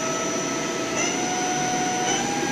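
CNC lathe spindle spinning at higher speed, a steady loud whine with a faint rise in pitch, continuous with no talking.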